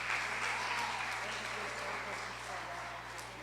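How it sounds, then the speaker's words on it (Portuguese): A church congregation in a packed sanctuary applauds, dense sustained clapping at an even level that slowly tapers, with faint voices mixed beneath. "Vamos aplaudir Jesus"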